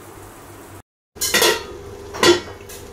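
A mutton curry pot on a gas stove gets its lid set on, giving two sharp metallic clanks and rattles after a brief gap, close and fairly loud over a low background.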